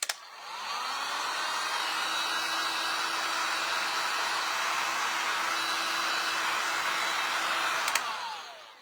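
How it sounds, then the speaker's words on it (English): A handheld hair dryer blows steadily over wet paint on a stencilled sign, a loud continuous whooshing roar with a whining tone, switched on at the start and clicked off near the end, with no voices. "I'm going to have to dry that real quick before I do the words on top of wet paint."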